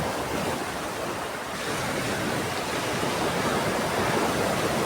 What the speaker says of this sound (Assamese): এয়া চাব, ৱেভ মাৰি আহি আছে।